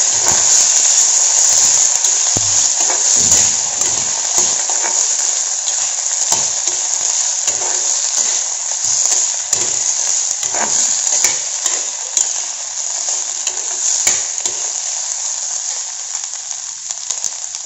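Peanuts and chickpeas are stirred in a hot pan, a loud, continuous sizzle and frying hiss with repeated scraping knocks from the spoon, close up and without talk.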